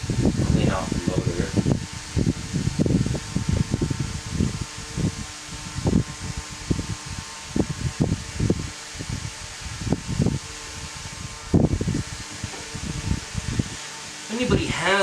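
An HV-9G electric fan running nearby, with a steady broadband whoosh of moving air and a low motor hum, overlaid by fluttering buffeting bursts, and no voices.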